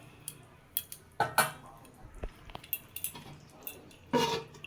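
Metal lid set onto a cooking pot after the stove is turned off, producing several sharp clinks and clatters close by, scattered over a few quiet seconds.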